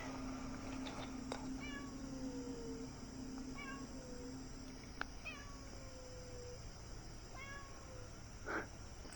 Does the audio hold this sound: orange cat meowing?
yes